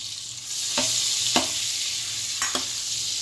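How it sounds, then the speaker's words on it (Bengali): Paneer pieces frying in melting butter in a pan, a constant bright sizzle with a few sharp stirring scrapes spaced about a second apart, close and clear with no voices. "মেল্ট হতে থাক, আমি পনিরগুলো সাইড দিয়ে দিয়ে ফ্রাই করে নিচ্ছি"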